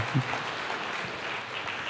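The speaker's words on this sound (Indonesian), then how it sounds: "Kasih tepuk tangan dulu bagi Tuhan" Congregation at a church service applauding for God, a steady broadband patter of many hands filling the room, moderately loud and sustained, with a brief low voice near the start.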